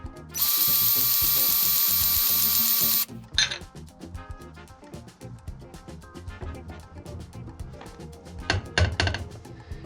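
A hand grease gun pumping grease into a nipple on a Chinese mini excavator, heard as a loud continuous hiss and squeal at first, then a run of close mechanical clicks and ratcheting strokes.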